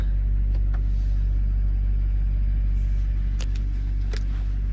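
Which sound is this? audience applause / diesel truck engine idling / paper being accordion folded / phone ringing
diesel truck engine idling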